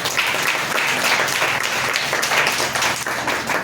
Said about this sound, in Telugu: గట్టిగా చప్పట్లు కొట్టు